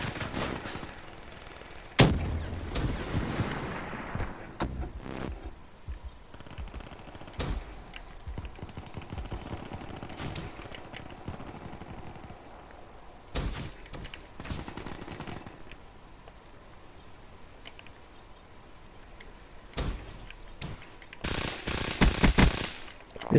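Pharaoh gun firing in Black Ops 3 multiplayer, loud sharp bursts of rapid automatic fire in clusters with pauses, amid game explosions and background noise, no talk.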